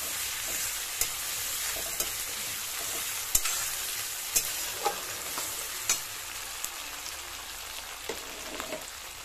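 Garlic and ginger paste frying with browned onions in a pan for prawn malai curry, producing a dense, steady hissing sizzle up close, with occasional soft clicks of stirring and no voices.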